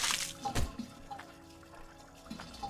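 Water pouring and trickling inside the mining game Hydroneer, a light liquid splash with a few drips over a faint musical background, fairly quiet and close.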